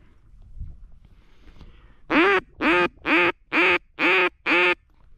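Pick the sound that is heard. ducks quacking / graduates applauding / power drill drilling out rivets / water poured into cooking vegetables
ducks quacking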